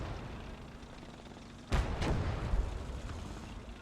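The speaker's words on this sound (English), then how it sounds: "It's got another howitzer and a pretty good lane firing on us." A howitzer fires in the WWII strategy game Gates of Hell: Ostfront with a sudden heavy boom, then a second blast close behind, over a constant battlefield rumble.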